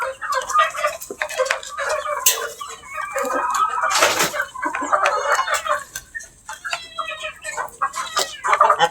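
Gamefowl stags, young and baby birds, cluck and chatter continuously nearby in overlapping calls, with occasional louder squawks and no talking.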